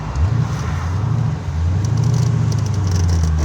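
A 1988 Callaway twin turbo Corvette rolls into acceleration in second gear, its engine a loud, close, rising drone that dips briefly before pulling steadily on.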